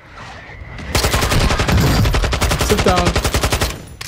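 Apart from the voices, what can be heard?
gunfire in the video game Warzone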